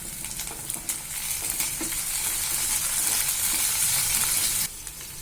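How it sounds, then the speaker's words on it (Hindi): Green chilies and peas sauté in a hot pan while making roti poha, a strong continuous close sizzle with a few light utensil knocks, the hiss dropping somewhat near the end. "अब इसमें हरी मिर्च डाल दूंगी मैं, अब इसमें मटर डाल देंगे।"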